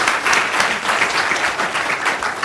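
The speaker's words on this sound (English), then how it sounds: "A quick round of applause for our panel." An audience at a New Jersey Board of Public Utilities meeting gives a panel a brief, dense round of applause that holds steady throughout.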